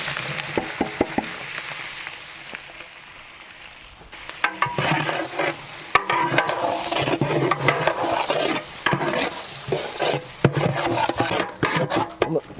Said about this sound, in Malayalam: ഉള്ളി ഇടാം.